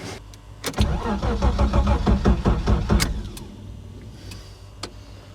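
A Ford Sierra Mk1 4x4 Ghia estate with a 2.8i engine cranks on jump leads, a rapid rhythmic starter whir churning for about two seconds before the engine catches and settles into a quieter idle, close by.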